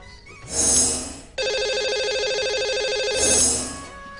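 A telephone rings as a radio show places a call to a lucky caller: two short warbling rings frame a steady electronic ringback tone, close and clear with no talk.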